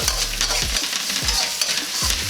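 Sichuan pepper, spring onions, garlic and ginger fry in hot oil with a loud, close sizzle, broken by several rhythmic scrapes of a spatula stirring the pan, with no talking.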